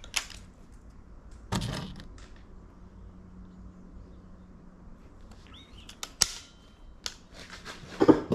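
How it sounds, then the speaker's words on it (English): A Weihrauch HW97 air rifle fires a few shots, each a sharp spring twang and snap separated by several seconds of quiet, heard up close with faint mechanical handling noises between. "we're going to try the 97, put a couple of shots through it so we can listen to the twang"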